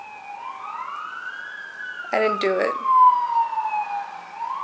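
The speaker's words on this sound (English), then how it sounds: "the sirens are going off." Emergency vehicle sirens wail in long rising and falling sweeps that carry on without a break, clear and fairly loud. Someone speaks briefly over them partway through.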